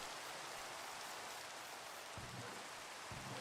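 Steady rain in Minecraft played with the GregTech New Horizons modpack, a dense, even hiss that fills the whole clip at low level, with a faint low thump near the end and no talking.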